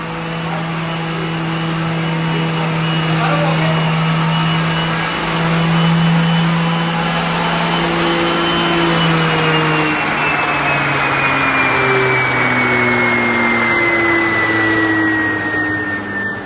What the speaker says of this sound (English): It goes into the mill, and you get, you know, and you grind it, right? You grind it.